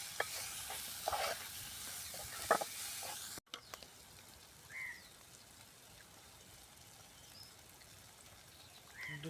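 Egg burji masala sizzling in a pan as it is stirred, close frying crackle with a few scraping strokes early, then a quieter steady sizzle.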